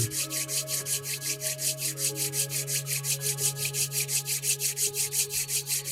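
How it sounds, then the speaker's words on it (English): Two palms rub together quickly in a fast, even back-and-forth rhythm of soft swishing strokes over a low, steady background tone. "Rub the hands a little bit faster."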